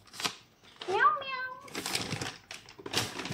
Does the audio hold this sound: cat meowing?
yes